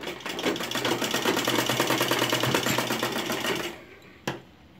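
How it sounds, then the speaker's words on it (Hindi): A sewing machine runs steadily, rapidly stitching elastic onto a homemade fabric face mask, then stops, followed by a single sharp click. "दो तीन बार इसके ऊपर हम इलास्टिक के ऊपर सिलाई लगाएंगे।"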